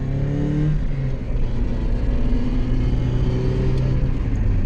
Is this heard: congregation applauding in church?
no